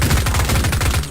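An SMG in the video game Cultic fires a rapid, evenly spaced burst of loud gunshots that runs for about a second.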